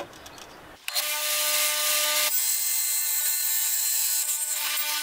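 Power saw with a fence set for straight cuts slicing kitchen backsplash tile, a loud steady whine starting abruptly after a brief quiet moment and holding for several seconds, close up and alone.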